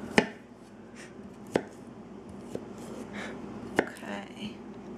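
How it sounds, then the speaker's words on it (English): A knife chops garlic cloves on a board with four sharp, spaced knocks over quiet room tone, with faint talk in the background. "So see how I'm cutting it, and then the ones that are a little thicker I'll just cut again."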